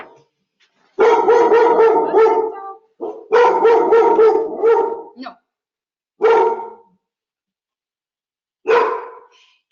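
Several dogs bark in loud bursts of repeated yaps, set off by a delivery arriving, with pauses between volleys and a final shorter burst near the end.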